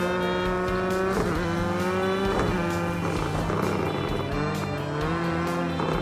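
A Mini Cooper rally car in a Project CARS 2 rallycross race brakes and accelerates. Its loud engine pitch drops and climbs again several times, with tire squeal mixed in and no one talking.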